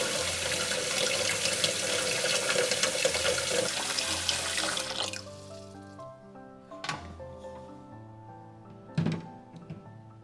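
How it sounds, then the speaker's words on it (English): Water runs from a kitchen sink tap into a filtration pitcher, a steady loud gushing stream for about five seconds, then it stops and a few sharp clunks and knocks of the pitcher follow. "Let me head to the sink and fill this up to the max."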